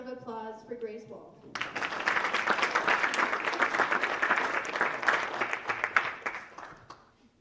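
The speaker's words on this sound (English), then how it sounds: "Now let's give another round of applause for Grace Wall." Audience applause fills a high school FFA banquet hall, a dense, steady wash of many hands clapping that swells after a brief voice at the start and carries on for several seconds before tapering.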